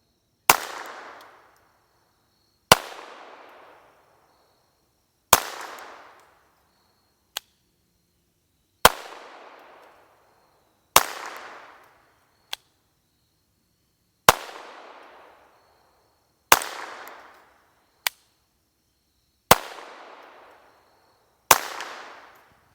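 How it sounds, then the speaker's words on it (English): Pistol firing suppressor ammunition, alternating unsuppressed and with a Banish 22K suppressor: roughly ten loud cracking shots with short decaying echoes, evenly spaced a few seconds apart, plus several quieter sharp clicks between them. "That way you can tell what this Banish 22K suppressor sounds like with suppressor ammo out of a pistola."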